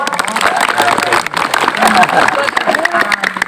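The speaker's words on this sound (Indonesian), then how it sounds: "Tepuk tangan dulu dong." Schoolchildren in a ninth-grade class clap and cheer at a school event, a loud, dense burst of applause filling the room with crowd noise throughout.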